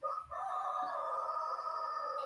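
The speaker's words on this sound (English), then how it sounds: "I'm not sure if you can hear the roosters outside my window here," A rooster crows outside a window in one long, sustained call, heard faintly at a distance with no talking over it.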